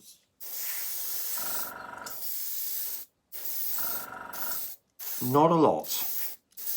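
Airbrush spraying grime weathering onto an N gauge model locomotive: three long steady hissing bursts separated by short pauses, close and fairly loud, with someone briefly talking over the last one.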